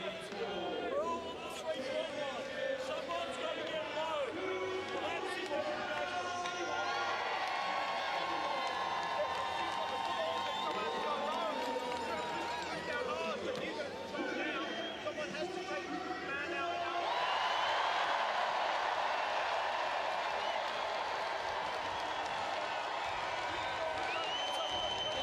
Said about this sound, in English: It's a great sight to see that home crowd roaring on the home team at the North Greenwich Arena.